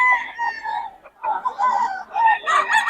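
Chickens cluck and crow close by, a rooster's call rising over busy fowl chatter, loud with brief pauses between bursts.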